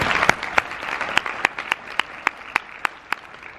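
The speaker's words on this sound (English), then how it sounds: "let's give a round of applause for Carol and the team" Scattered keynote audience applause builds into a thin, uneven patter, with a few nearby hands landing sharp, evenly spaced claps that stand out clearly over the softer spread of clapping behind them.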